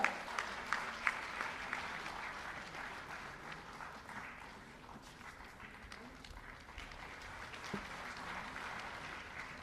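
Audience applause at a school toilet construction felicitation ceremony, steady moderate clapping filling the whole stretch, with a few sharper claps near the start and a faint voice mixed in.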